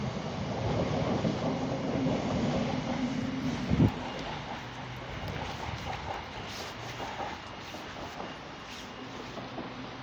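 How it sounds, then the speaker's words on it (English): A ScotRail Class 320 electric train pulls out of Paisley Canal station for Glasgow Central, its rumbling drive steady and close, with a sharp bang near four seconds, then fading slowly as the wheels roll away. "Now departing is the 1731 ScotRail service to Glasgow Central."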